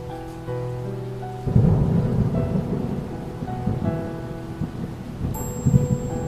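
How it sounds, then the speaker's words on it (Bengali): Heavy rain pours down on a stormy night while deep thunder rolls in, a steady wash of falling water with low rumbling swells that build and fade. "এরপরেও বৃষ্টি থামে না"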